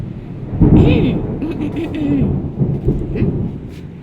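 Heavy rain pours steadily with deep rumbling thunder rolling through, and a voice talks intermittently over the storm; the whole scene sounds close and loud.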